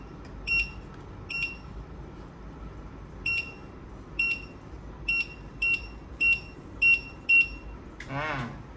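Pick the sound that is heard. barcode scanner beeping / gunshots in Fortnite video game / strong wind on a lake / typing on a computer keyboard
barcode scanner beeping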